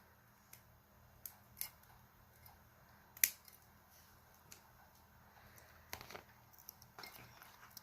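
Scissors snip craft material for a black and white bling centerpiece, a handful of sharp, close, isolated cuts spaced across a quiet room.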